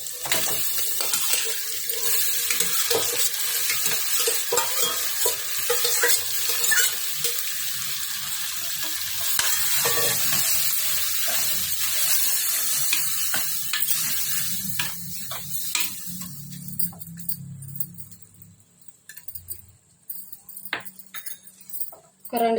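Goat tripe (boti) fries in a pan, a loud crackling sizzle with stirring that gradually dies down toward the end, followed by quieter scattered clatter.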